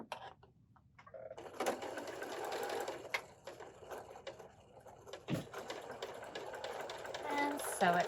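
A sewing machine stitches quilt block pieces in close, fairly quiet bursts of rapid mechanical whirring with brief pauses between runs.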